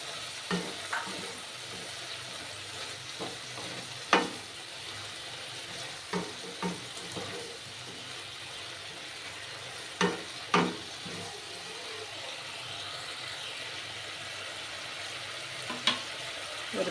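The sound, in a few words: chickpeas and paneer being sautéed and stirred in a pan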